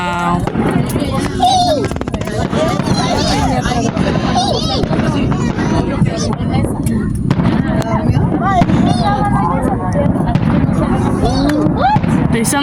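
Fourth of July fireworks burst in rapid, dense crackling pops and booms from some distance, while children and other people chatter and exclaim nearby throughout.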